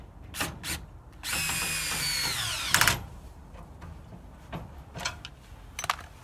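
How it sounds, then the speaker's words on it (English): A power drill fitted with a 3/4 inch bit cranks the jack of a 5th wheel trailer, giving one steady whirring run of about two seconds with brief clicks and clatter before and after. "so the drill works very quickly on it"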